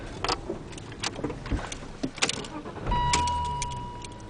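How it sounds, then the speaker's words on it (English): A manual transmission car pulls away slowly, with soft engine rumble, small clunks and a steady tone toward the end, heard close up inside the vehicle. "Now I'm going to drive, doing it slowly"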